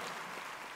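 A crowd applauds in the video game Red Dead Redemption 2, a brief, steady burst of massed clapping at moderate volume.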